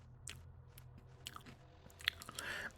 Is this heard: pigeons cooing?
no